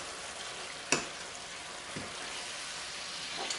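Pork steaks sizzle steadily in a pan, with a sharp clatter near the start and softer bumps later as the meat is flipped; no one talks.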